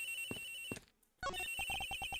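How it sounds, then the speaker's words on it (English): A telephone rings in an Ace Attorney video game: bright electronic ringtone bursts, a short gap, then a rapid train of repeated chirping tones, loud and close with no speech. "The ringing's coming from somewhere in here, sir."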